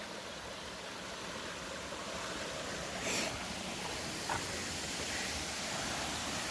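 Steady broadband rushing of Sunderland Creek flowing, fairly faint and constant, with a couple of brief splashy bursts.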